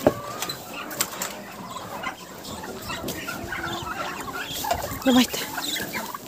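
Farmyard chickens, kept alongside ducks and turkeys, cluck and scratch around nearby in a busy, continuous jumble, with a brief voice calling to them.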